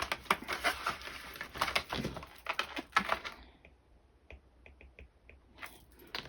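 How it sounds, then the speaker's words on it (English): Bracelets clink and jangle in a rapid run of bright metallic taps at close range, then a quieter handful of isolated clicks after a brief lull. "Sorry about my bracelets. They're like making all kind of noise."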